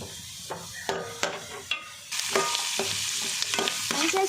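Chopped onion is stir-fried in a pan with ginger and garlic, with several distinct stirring scrapes and clanks of a spoon, followed by a louder, steady sizzle as the frying picks up while the stirring continues.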